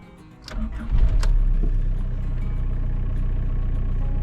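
Volkswagen Sharan 1.9 TDI diesel engine with unit injectors cranks briefly, catches and settles into a steady, loud, gravelly idle, heard close.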